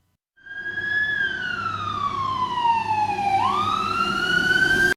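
A loud fire truck siren wails steadily, its tone sliding slowly downward then sweeping back up, with no voices present.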